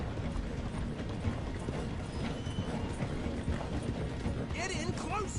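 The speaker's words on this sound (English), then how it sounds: "My horse slowing down." Galloping horse hooves in Red Dead Redemption 2 during a train chase, a rapid steady clip-clop close by with mechanical clanking beneath, while voices talk over the ride.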